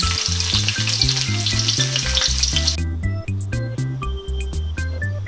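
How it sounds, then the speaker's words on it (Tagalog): Garlic and onion sautéing in a wok before squid goes in, a bright sizzle under a loud, rhythmic tonal hum or music that dominates; the sizzle fades partway through, leaving the steady pulsing tones. "Igigisa na natin yung ating bawang. At isunod ang sibuyas."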